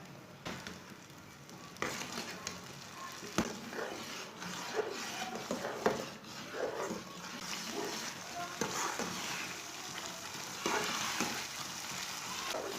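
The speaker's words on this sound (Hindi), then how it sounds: "इसे चम्मच चलाते हुए पकाना है।" Semolina and egg halwa cooks in a pan while a spoon stirs it, giving a steady soft sizzle and frying crackle, broken by repeated scraping strokes and light clinks near at hand, with no talk.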